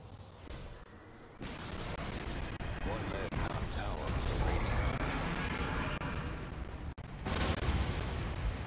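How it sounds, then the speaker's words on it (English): Attacks on Radiant buildings in Dota ring out as dense, rumbling game combat, with overlapping impacts and blasts that build into a sustained barrage, sounding loud and close. "Hate to be in there shooting down radiant structures like this."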